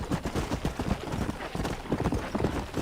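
Hooves of a Kentucky Saddler horse in Red Dead Redemption pound out a quick, steady galloping clip-clop, close and fairly loud, with no talking over them.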